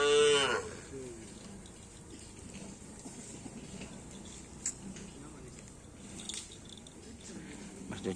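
A cow moos loudly and close at the very start, followed by quieter outdoor farm ambience at a bull-racing (karapan sapi) practice ground, with faint voices in the background.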